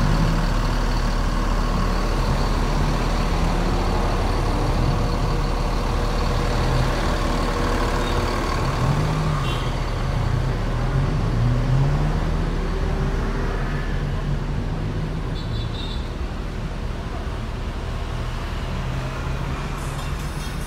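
An NPM Sutan class bus on the Jakarta–Padang route idles with a steady low diesel rumble that holds nearly unchanged throughout, close by, alongside faint surrounding traffic noise.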